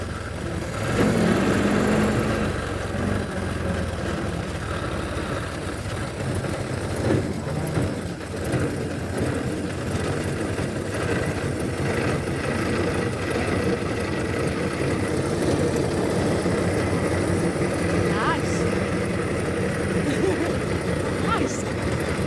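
A 100-year-old Ford Model T engine runs steadily underneath while people talk throughout, a low, even mechanical drone with no sharp revving.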